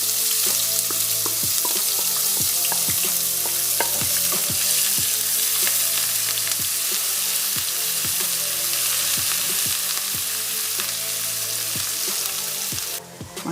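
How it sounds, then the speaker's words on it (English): Onion and ginger fry steadily in hot oil in a pan, a loud, continuous sizzle with regular scraping and stirring clicks throughout, no voices. "I'm adding my oil to the pan. I add my onion and"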